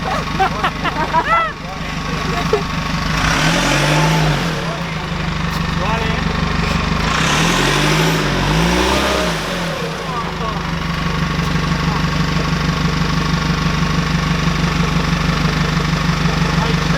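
A 4WD stuck off-road in the Chichester State Forest, New South Wales, roars with a loud, continuous engine note that swells and dips as it revs, with people talking over it.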